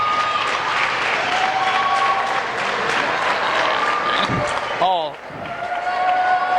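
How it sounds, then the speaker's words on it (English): Crowd applause and cheering in a high school basketball gym during an Oak Hill versus Northwest game, a loud sustained roar with squeaking sneakers and a brief dip near the end, announcer talking over it. "So Joe could get a round of applause"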